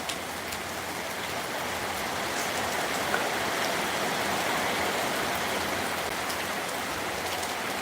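Steady rain pours down outdoors on a school-day morning, a dense, even hiss of drops on surfaces that stays constant throughout with no voices.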